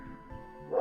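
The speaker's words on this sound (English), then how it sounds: "I think you can hear the dogs barking" A dog barks in Final Fantasy IX game audio: one short, close yipping bark over steady background music, lasting under a second.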